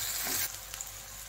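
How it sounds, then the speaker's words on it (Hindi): A large onion frying in hot oil toward golden brown, giving a short, close, steady sizzle with a light stir near the start and no talking. "फिर 1 बड़े साइज का प्याज डालना है। अच्छा ब्राउन होने तक, गोल्डन ब्राउन होने तक इसको भून लेना है।"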